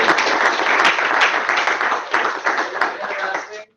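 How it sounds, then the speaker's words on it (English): A crowd applauds steadily for several seconds, dense clapping that fades out abruptly at the end. "let's give Janet a round of applause."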